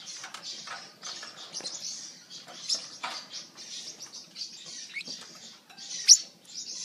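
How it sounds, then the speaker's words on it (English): A baby yellow parrotlet gives soft, high chirps and thin cries in quick irregular bursts, close but quiet, with faint rustling and flapping between calls and one sharper squeak near the end. "Oh, the baby bird's crying."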